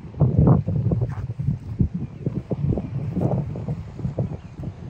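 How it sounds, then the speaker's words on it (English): Gusts of wind at a beach in Toronto buffet the microphone in low, rumbling bursts that rise and fall unevenly over several seconds, with no voices. "It could be pretty windy. Sorry, I forgot my mic in the car."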